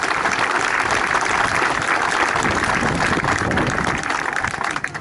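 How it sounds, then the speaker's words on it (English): Round of applause at a football club clubhouse and pitches opening, dense continuous clapping from a crowd, loud and even, easing slightly at the end. "I'd like a serious round of applause for Tom Tarmy for all the commitment he's given to the club"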